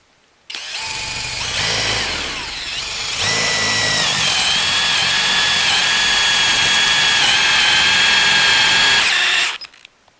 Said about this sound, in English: I'm going to see if this drill can drill a 10mm hole into this 3x3 piece of wood.